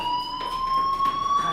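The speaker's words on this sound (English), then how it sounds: "Hey, do you hear that fire alarm?" Fire alarm in the Life is Strange video game, a continuous high electronic tone sounding steadily and loudly throughout, with no talk over it.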